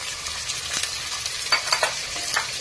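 Tomatoes and curry leaves cook in a pan for an onion-garlic pulusu, a quiet, close sizzle with a few sharp clicks and taps from stirring.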